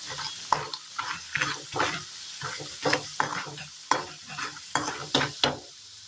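Cassava pieces frying in hot oil with a steady sizzle, broken by repeated rhythmic bursts of stirring and scraping in the pan.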